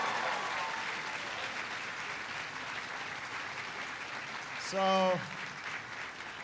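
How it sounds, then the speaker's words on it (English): An audience at a presidential ConnectED event applauds for Nelson, a broad steady wash of clapping that continues throughout, with a short spoken word cutting in near the end. "can everybody please give Nelson a big round of applause"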